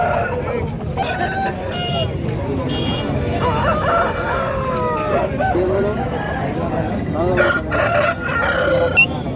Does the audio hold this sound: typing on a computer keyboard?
no